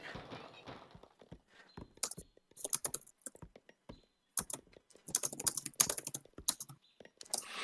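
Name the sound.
computer keyboard typing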